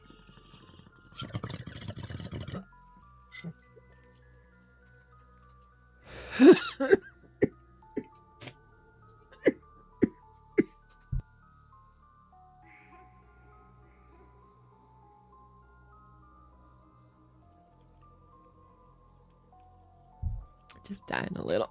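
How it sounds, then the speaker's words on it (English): A streamer coughs in a few harsh bursts spread across a mostly quiet stretch of a game session, with sharp clicks and small taps scattered in between. "Okay, I'm done coughing."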